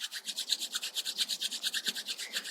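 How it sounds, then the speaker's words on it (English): Palms rubbing briskly together during a pranayama breathing session, a steady rhythmic swishing rasp of about eight strokes per second, close and clear with no talking. "Start rubbing your palms once again."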